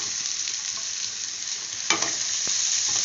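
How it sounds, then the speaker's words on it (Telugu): Capsicum pieces, corn and beans fry in a hot pan with a steady broadband sizzle, broken by a few sharp scrapes and clatters of stirring, loudest near the two-second mark. "ఇందులో క్యాప్సికమ్ ముక్కలు, కార్న్ అండ్ క్యాప్సికమ్ బీన్స్ 3 వేసేస్తున్నాను."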